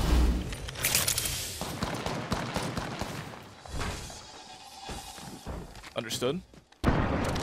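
Rapid gunfire and explosive bursts in the Apex Legends video game, loud overlapping shots crackling across most of the stretch with brief lulls, while players talk over the action.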